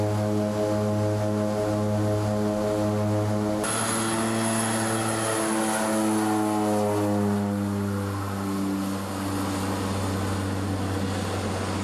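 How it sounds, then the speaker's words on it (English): A seaplane's propeller engine drones steadily and loudly over the Maldives atolls, a close, sustained tonal hum that shifts in pitch partway through as the engine note changes, with no voices. "Able to take off and land on a short distance, even in rough seas, the seaplane is the ideal surf mobile to check the nearby spots."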